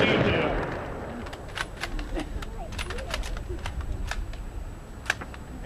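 Rifle volley salute by a Purple Heart chapter firing detail at a Veterans Day parade outdoors, sharp distant cracks scattered over the crowd murmur and bird sounds, with a louder shot near the end.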